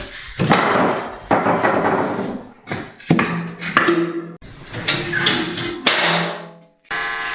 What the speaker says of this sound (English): we just add some bigger wood, and then that'll heat it up for a while